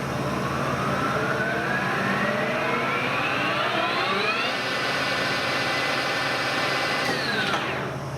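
A machine headstock spinning at 1500 rpm, with a loud steady mechanical whine that climbs in pitch as it comes up to speed and then holds steady near the microphone.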